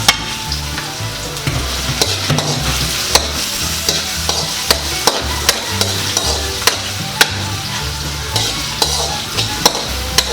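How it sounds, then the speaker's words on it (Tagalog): Garlic and onion sautéing in hot oil for a pot of beef pochero, giving a loud, steady sizzle close by. Regular sharp clicks of a utensil against the pan recur throughout, with no talking. "Ngayon, ilagay na po natin yung ating bawang. Ayan, isunod po natin yung ating sibuyas."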